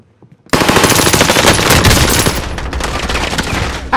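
Loud, rapid automatic gunfire in the Call of Duty Warzone video game, bursting in abruptly after a near-silent moment and continuing as dense sustained shooting.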